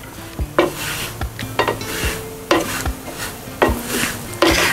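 An onion cheese paratha being flipped and roasted on a pan over low gas, with a soft sizzle under repeated spatula scrapes and metallic clinks, close by and with no talking.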